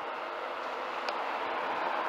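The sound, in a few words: train 91110 to Leeds arriving at Peterborough station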